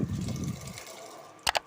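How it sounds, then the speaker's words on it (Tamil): Boiled chickpeas with their water gush and splash briefly into a pot, followed by a couple of sharp metallic clinks at the end. "தண்ணியோடையே ஆட் பண்ணிக்கோங்க."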